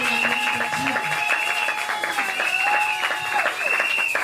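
A church congregation claps at an evangelical service, a continuous patter of many hands under sustained singing voices and talk.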